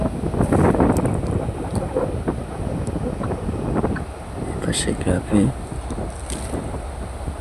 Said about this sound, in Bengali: আজকে অনেক ঢেউ অনেক বাতাস সমুদ্র পাড়ে